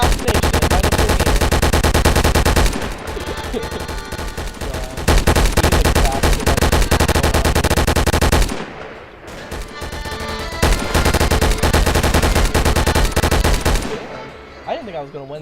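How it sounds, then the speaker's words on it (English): Video game gunfire aimed at the player: loud, dense automatic bursts and rapid shots hammering almost continuously, with brief pauses, alongside occasional speech. "oh my god, I'm getting shot at"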